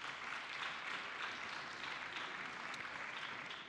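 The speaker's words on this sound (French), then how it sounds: "Merci de les applaudir" Steady applause fills a hall during a French public session on access to sport, a dense even wash of clapping from an audience sustained throughout without a break.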